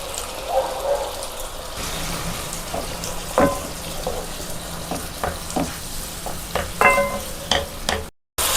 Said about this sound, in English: For this I am going to add little water to this wedges.